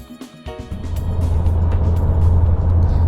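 A Porsche 911 Carrera S of the 992 generation drives with a steady, loud engine drone. The drone builds in the first half second and then holds even with a low rumble.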